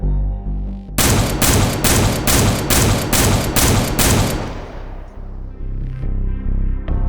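Eight loud, evenly spaced shots from a semi-automatic weapon firing at 140 rounds per minute in Halo Infinite, a steady rhythmic burst followed by a decaying reverberant tail and low ambient rumble.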